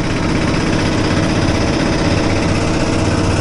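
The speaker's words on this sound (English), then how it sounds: "here's my extra muffler on my generator." A generator fitted with an extra muffler runs at a steady, even drone, close and constant with no change in pace, and no one speaks.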